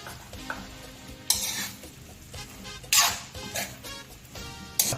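Eggplant goes into a pan of pinakbet vegetables with bitter melon already in it, bursts of sizzling and metal-on-pan stirring scrapes recurring close up over a low background hiss, no voices.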